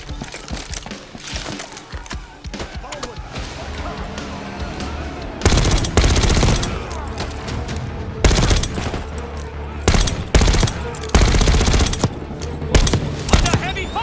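Heavy automatic gunfire fills a Call of Duty Black Ops 6 campaign battle, with dense loud bursts and repeated fusillades, voices calling out between them.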